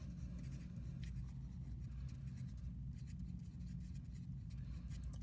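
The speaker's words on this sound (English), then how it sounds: "I'm going to write more there in a second" Pen scratching across paper while a heart diagram is drawn, quiet close strokes in short irregular bursts over a faint low background hum.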